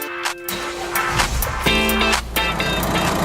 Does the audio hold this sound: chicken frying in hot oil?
no